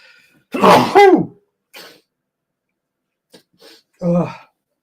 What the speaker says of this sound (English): Hopefully I sneezed the other way that time